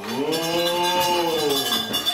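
A voice imitating a cow's moo in a puppet show, one drawn-out, loud, wavering low call lasting about two seconds, heard alone.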